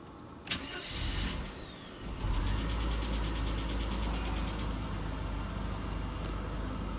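A 1992 Mercedes W124 with an overheating fault cranks briefly and fires up around two seconds in, then settles into a steady, close idle with no one talking.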